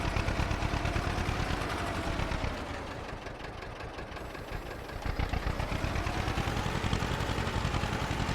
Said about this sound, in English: The tractor's handling it quite well as well.